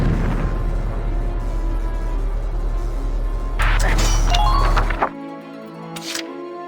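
A shot fires and an explosion destroys a tower in the video game Valkyria Chronicles, a loud burst with crashing debris over a low droning game soundtrack that then drops away, leaving a brief rattle.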